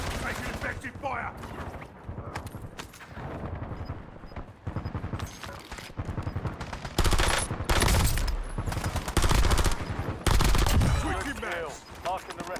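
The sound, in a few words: gunfire in a shooter video game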